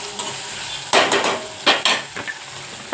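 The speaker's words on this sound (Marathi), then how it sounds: "टमॅटो तेलामध्ये चांगला परतून घेऊया" Tomatoes fry in hot oil in a pan while a spoon stirs them, giving a soft steady sizzle broken by several sharp scraping clatters close by.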